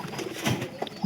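A domestic pigeon coos in a few soft, low, short bursts with brief flaps or rustles in between, close by at a quiet level with no talking.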